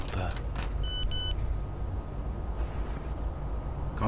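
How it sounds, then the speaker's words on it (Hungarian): A phone SMS notification in the horror game Cry of Fear, two brief sets of bright electronic beeps in quick succession over a low, rumbling ambient drone. "Kaptam egy SMS-t."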